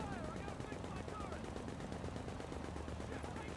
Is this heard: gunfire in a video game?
yes